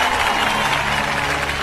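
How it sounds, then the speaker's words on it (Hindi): A crowd claps in steady, dense applause, loud and close, filling a short burst without any talking over it. "ताली बजाओ ताली"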